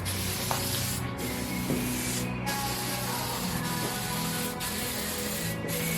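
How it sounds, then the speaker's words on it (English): Airbrush or spray gun laying thin, extra-thinned distant mist coats of Alsa Corp Crystal FX paint, a steady continuous hiss with brief pauses between passes, close and even. "I'm just going to try a couple of real just distant mist coats, like so."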